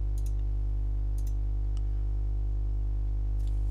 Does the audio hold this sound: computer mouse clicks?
yes